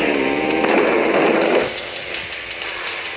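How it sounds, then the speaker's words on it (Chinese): A car blows up in the Earn to Die 2 driving game, a loud rushing burst of explosion noise that roars for about a second and a half, then drops to a softer hiss. "加速，喂到爆炸嘅！"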